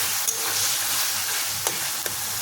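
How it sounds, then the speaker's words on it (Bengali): Kochu shak greens with turmeric stirred in a hot pan, a continuous sizzle with a few sharp scrapes and knocks of the spoon against the pan. "এখন এটাকে আমি ভালো করে নেড়ে চেড়ে বানিয়ে দেবো।"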